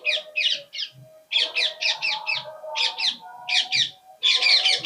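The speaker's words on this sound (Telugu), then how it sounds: "కొబ్బరి చెట్టు మీద రామచిలుకలు." Rose-ringed parakeets in coconut trees give loud, harsh, screeching calls close by, in quick bursts of two to four notes separated by brief pauses, with a faint low call now and then.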